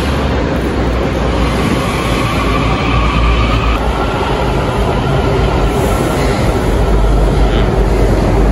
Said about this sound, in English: that's the train coming.